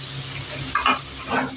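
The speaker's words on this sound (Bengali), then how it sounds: "এই পেঁয়াজগুলো আমি সিমে করে ভাজছি।" Onions frying slowly in a pan over very low heat for a chicken and capsicum curry, a soft steady sizzle with a few faint stirring scrapes, close and alone.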